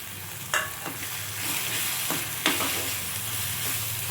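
Spices sizzle steadily with chickpeas for a dhaba-style chana masala in a hot pan, a continuous frying hiss broken by a few scraping stirs of a spoon, close up with no talk.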